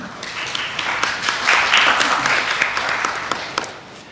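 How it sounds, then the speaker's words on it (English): Conference audience applauding to welcome panelists at a humanitarian panel on private sector leadership, a steady crackle of many hands clapping that swells to a peak midway and then tapers off slightly. Speech is mixed in underneath. "Please join me in a round of applause to welcome our panelists."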